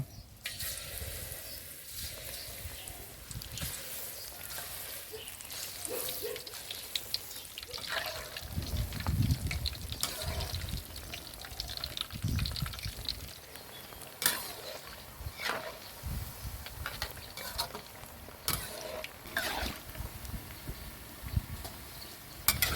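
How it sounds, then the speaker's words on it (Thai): A steady, hissing sizzle of battered bananas deep-frying in hot oil, with scattered pops and crackles over a continuous bubbling background. "จากนั้นก็มาทอดกระทะต่อไปเลยนะครับผม"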